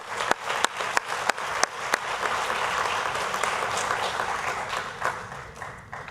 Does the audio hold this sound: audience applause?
yes